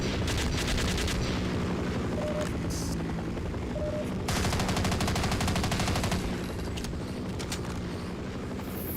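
Gunfire from shooting an enemy in Half-Life, with dense, continuous rapid bursts that stay loud and close for the whole stretch.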